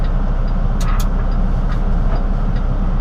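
A loud old truck in a video game drives along, giving a steady, heavy engine rumble with faint clanks and rattles over the drone.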